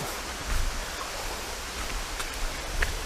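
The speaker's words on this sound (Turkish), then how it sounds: "Şelale de burası." A popular tourist waterfall pours steadily nearby, a broad even rush of falling water with faint brief knocks on top.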